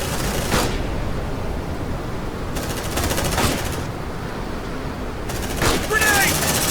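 Video game gunfire from Aliens: Dark Descent comes in three separate rattling bursts of rapid automatic shots against a noisy hiss, fairly loud and close.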